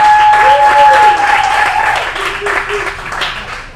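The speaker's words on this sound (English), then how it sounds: "How about a round of applause for Danny and Eric getting you warmed up?" Live show audience gives a round of applause for the warm-up act, clapping loud and close at first and then tapering off, with voices and a whoop or whistle riding over it.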